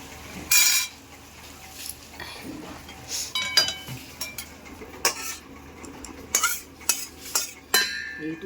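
Cooked mushroom curry is scraped and poured out of a metal pan, with sharp intermittent clinks and scrapes of a spoon against the pan and dish, uneven bursts separated by short pauses.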